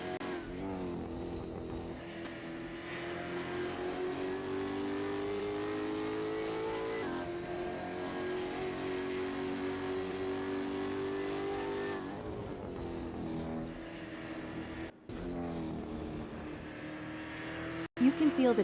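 Race car engines drone and rev steadily on a sim racing track in a video game, a continuous loud engine note with shifting pitch that holds throughout and ends in a few sharp bursts.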